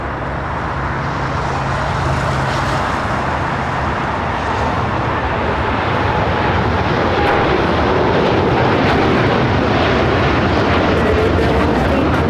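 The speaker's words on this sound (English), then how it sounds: "the United Dreamliner about to rotate off 25 right" A United Boeing Dreamliner rolls for takeoff on runway 25 right at LAX, a loud, continuous jet roar that builds gradually over the whole stretch, with faint road traffic in the background.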